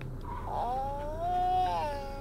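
A young girl imitating someone crying: a drawn-out, wavering wail that rises and falls over about two seconds, fairly close and alone.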